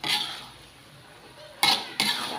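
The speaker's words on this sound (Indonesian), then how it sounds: "Lalu kita aduk ya." Fried potatoes stirred in a pan for spicy potato and pete sambal, a soft scraping sweep followed by two sharp metallic clinks of utensil on pan, close up with no talk.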